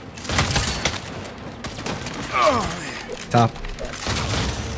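Shotgun blasts in the open-world video game Saints Row, a few sharp heavy shots mixed with game effects and music while a player talks over the action.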